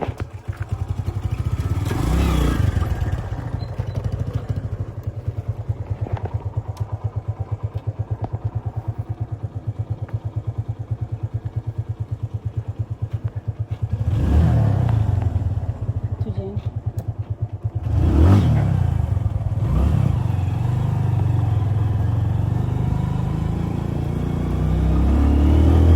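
A motorcycle ridden through town, its engine droning steadily and rising in several throttle surges, heard up close from the bike under intermittent talk.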